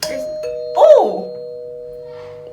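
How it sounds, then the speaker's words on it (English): A doorbell in an empty house rings once with a clear electronic ding-dong over a faint steady hum, followed by a short exclaimed word and a soft fading tail. "Wow, it is the doorbell."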